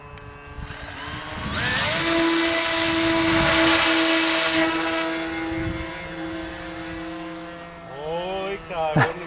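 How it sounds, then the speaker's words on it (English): A small hand-launched electric model airplane zooms past close by, its propeller whine rising loud and holding steady for several seconds before fading, with faint voices near the end at a flying field. "Wayne hand launched his own plane there, Jim."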